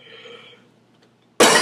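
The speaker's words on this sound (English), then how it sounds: "Coughing a bit." A single short cough bursts out loud and close after a stretch of near silence, following faint breathy sound at the start.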